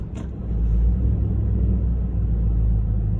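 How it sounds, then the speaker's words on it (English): Nissan truck, a Titan, Armada or Infiniti QX56 fresh from a transmission filter and pan gasket job, driven around a neighborhood: a steady low engine and road rumble, close and continuous, with no talk. "now we're gonna pull it out, take it for a drive"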